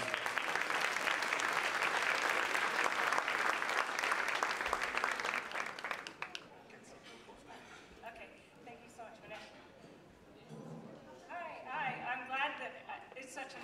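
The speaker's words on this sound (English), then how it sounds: "So a round of applause, welcome Sue, please." Gala fundraiser audience applauds a woman taking the stage, loud sustained clapping for about six seconds, then dropping away to murmuring room noise and a voice talking near the end.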